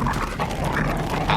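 A dog in a visual novel game snarls and growls while biting an arm, a short, loud, rough burst with whimpering yips, alone without talk.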